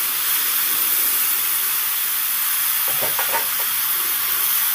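Papaya and potato pieces frying in a pan just after the lid comes off, a steady broad hiss of sizzling oil with a few faint clinks near the end.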